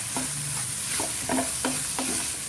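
Chicken keema with garam masala and pepper being stirred and sauteed in a pan, a continuous sizzle broken by a regular series of spoon scrapes against the pan.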